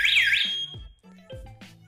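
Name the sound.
Ajax wireless alarm system going off after door moved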